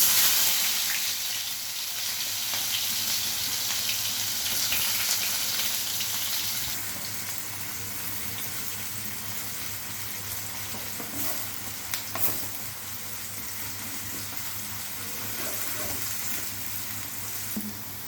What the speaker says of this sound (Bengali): এখন আমি কড়াইয়ে তেল নিয়ে নিয়েছি কিছু পেঁয়াজ এখান থেকে নেব বেরেস্তা করে রাখবো